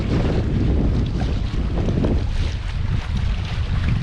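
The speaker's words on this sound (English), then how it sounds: "the wind's picked up quite a bit." Strong wind on a lake buffeting the microphone in a steady, heavy roar, with a faint wash of water underneath and no voices.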